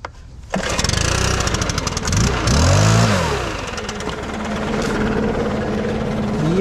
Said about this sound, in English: I had this blower for about 6 years now.